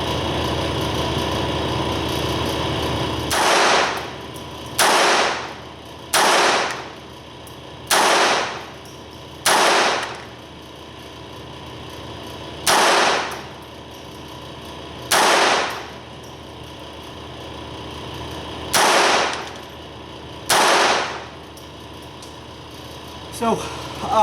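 A Smith & Wesson Model 41 pistol fitted with a red dot optic fires about ten single shots at an uneven pace, each a sharp, loud crack followed by a brief decay over constant background noise.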